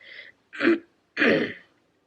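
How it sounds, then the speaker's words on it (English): A person clears their throat in three short, rough bursts with brief pauses between, close and fairly quiet. "Excuse me if I sound a little raspy or clear my throat a lot during this episode"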